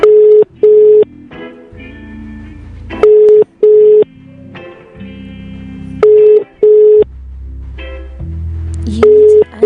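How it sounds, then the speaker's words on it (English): Telephone ringback tones repeat on a live call, loud steady beeps in pairs spaced a few seconds apart, with background music and sounds filling the gaps between rings. "Okay, it's ringing."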